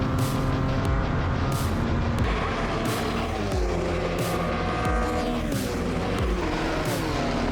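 Race cars, including a BMW M2 and a Cupra TCR, roar at Circuit Zandvoort with loud engine tones rising and falling through gear changes, while the sound of other passing cars mixes in.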